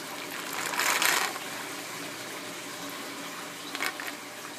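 Water gurgles and gushes through the overflow siphon of a 75-gallon aquarium, with air mixed in. A louder rushing surge comes early, then steady trickling and a brief bubbly burst near the end.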